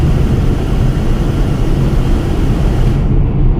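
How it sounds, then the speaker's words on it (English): Car windscreen fan blowing straight into a microphone while driving, a loud, steady, rumbling wash of air noise that fills everything and never lets up. "I'm aware that fan is blowing right into the mic"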